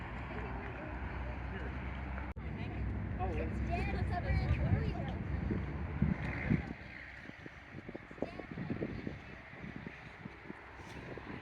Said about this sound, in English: And it's a windy day here.